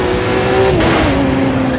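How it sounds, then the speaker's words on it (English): A race car engine in The Crew 2 video game holds a loud, sustained drone that dips in pitch as the car shifts or eases off, with a steady roar beneath. "Street racing is at the core of the crew DNA and one of the many disciplines of the Crew 2."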